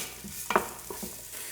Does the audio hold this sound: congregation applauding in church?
no